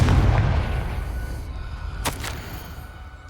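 In Hogwarts Legacy, a Confringo fire spell goes off as a heavy low boom that opens the moment and decays slowly, followed by a couple of sharp cracks partway through, without any talk.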